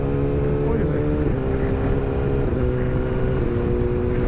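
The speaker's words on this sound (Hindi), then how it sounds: "देखो अब मैं बदल रहा हूँ गियर, ये लेके गए अपन रेस, क्लच नहीं दबा रहा मैं" A Suzuki GSX-R1000R motorcycle accelerating hard with a quickshifter: a loud, continuous engine roar up close, broken by three quick clutchless gear changes that briefly dip the pitch, under steady wind rush.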